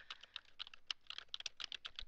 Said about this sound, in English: I'm just going to type random characters here.